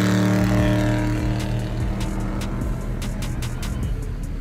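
A daily-driven car pulls away with a steady, loud engine drone that slowly eases off, with faint clicks above the hum and no talk.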